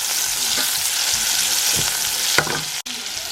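Onions are sautéing with ginger juice in a pan, giving a bright, continuous sizzle with soft stirring scrapes and a brief clink near the end.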